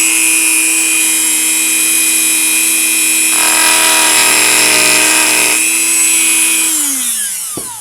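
A power tool whines loudly and continuously as it cuts through a fiberglass rocket tube. The pitch grows denser midway while the blade bites, then spins down at the end.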